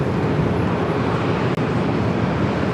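Steady, loud jet roar of an airliner on its takeoff run from the north side runways at LAX, a dense continuous rumble with no break across the whole stretch.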